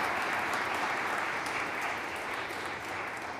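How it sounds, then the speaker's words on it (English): An audience at a USA250 Montgomery County, Pennsylvania kickoff event breaks into sustained applause, a dense, even clapping that holds steady from start to finish with no talk over it. "that deserves a round of applause, doesn't it?"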